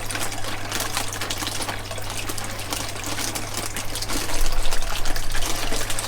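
Water flows and gushes steadily through a recirculating backyard aquaponics system, a continuous close splashing rush with a low pump hum beneath it that swells slightly toward the end.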